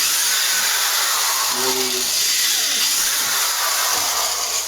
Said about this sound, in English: I'm just going to make a hole